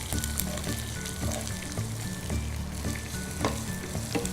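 Shallots and curry leaves sizzle in hot oil in a pan for a vegetarian curry, giving a loud, continuous crackling fry with occasional sharp pops and stirring scrapes throughout.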